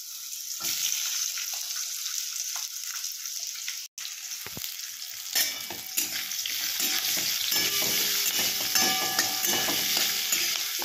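Cut potatoes dropped into hot oil in a pan set up for a Bengali kajli fish curry, a brief quiet start before a sudden loud frying hiss that builds and holds steady, with scattered crackles close by.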